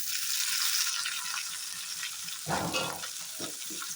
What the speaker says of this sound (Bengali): এখন আমি কেটে রাখা পেঁয়াজ টমেটো কাঁচা লঙ্কাটা এর মধ্যে দিয়ে দিই